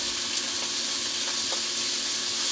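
Onions and other vegetables frying in a pan give a soft, steady sizzling hiss that stays even throughout, with no talking.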